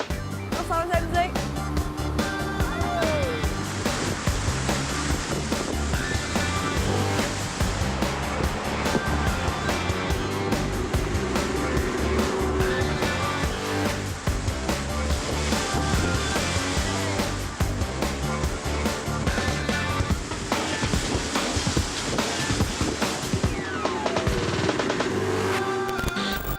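A 115 horsepower outboard motor on a 21-foot pontoon boat drones steadily and loudly, with water rushing and splashing alongside throughout.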